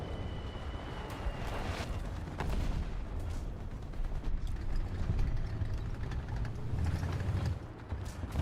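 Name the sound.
gunfire and artillery in video game War Thunder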